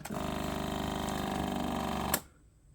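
A FoodSaver Elite vacuum sealer's pump motor runs on the moist setting, drawing air from a bag with a steady, loud buzzing hum for about two seconds before cutting off abruptly into quiet.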